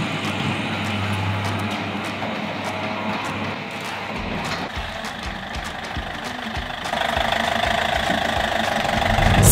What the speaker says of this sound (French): Bon, j'ai rentré le camion